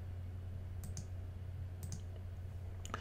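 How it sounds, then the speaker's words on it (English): A computer mouse clicks through a web page, with three brief, faint, sharp clicks spaced about a second apart over a steady low hum and no talking. "I'm going to click on the order link over here"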